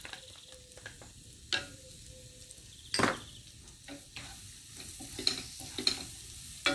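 Onions tossed into a pan of sautéed garlic and ginger, a soft steady sizzle broken by several sharp scraping and stirring knocks, close and fairly quiet.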